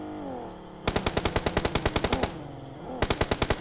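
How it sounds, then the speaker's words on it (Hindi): Automatic gunfire rattles through a PUBG custom room match on the Erangel map: one long burst of about twenty rapid, evenly spaced shots, a short pause, then a second burst that begins just before the end. "फायरिंग कर दिया इन पे"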